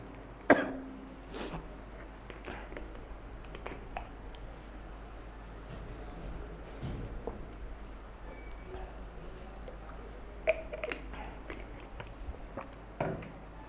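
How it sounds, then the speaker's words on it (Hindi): A teacher coughs during a Hindi-language biology lecture on biomolecules: a sharp cough near the start and another about ten seconds later, close to the microphone, over a quiet room. "थोड़ी खांसी आ रही है"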